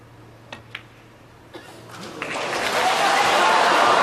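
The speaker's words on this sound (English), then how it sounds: "the crowd was celebrating the pot" A snooker crowd at the International Championship 2024 final breaks into applause after a pot, a few sharp clicks first and then loud, sustained clapping that swells and holds to the end.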